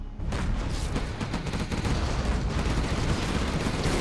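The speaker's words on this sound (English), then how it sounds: "pcap dropping in another carpet bomb and taking out Corey's black market" Carpet bomb explosions in the video game Hostile Dawn form a continuous loud barrage of booming, crackling blasts with no break for about four seconds.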